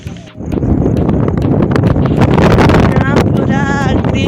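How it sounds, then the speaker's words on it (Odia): Wind roars steadily into the microphone outdoors while riding a scooter in the rain through green village surroundings, a loud close rush with faint talk beneath. "ପବନ ବି ଦେଲାଣି"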